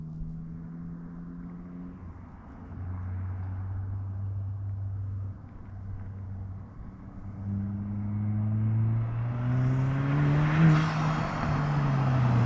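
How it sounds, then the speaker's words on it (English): A VW MK8 GTI with a muffler delete and stock downpipe, its exhaust droning at idle and then revving up in rising, raspy pulls that grow louder toward the end, heard up close with no talking. "That's just a muffler delete, by the way."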